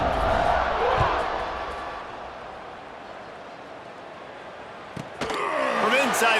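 A stadium crowd in the College Football 26 video game roars with a broad, sustained cheer late in the game while a commentator talks over it, then swells again near the end.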